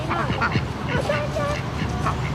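A small duck quacks several times close by at a café in Chiang Mai, Thailand, among a low wash of background chatter and outdoor noise.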